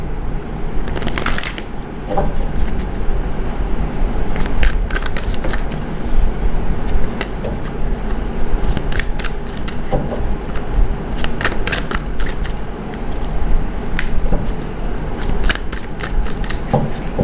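A deck of tarot cards being shuffled by hand: close, crisp riffling and irregular clicking flicks of the cards, repeated in bursts over a low steady background.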